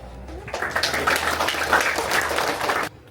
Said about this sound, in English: Put your hands together louder for that lovely toast.